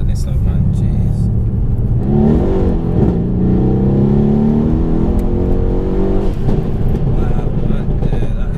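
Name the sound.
tuned Mercedes C63 S engine revving on dyno rollers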